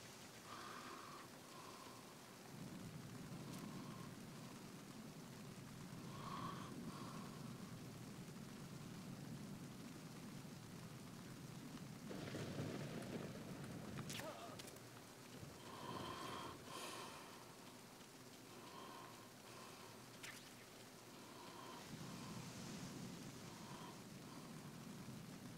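Night rain in a big city in the video game Metal Gear Solid 2, a quiet steady hiss running throughout with faint scattered game effects and soft thuds, no voices.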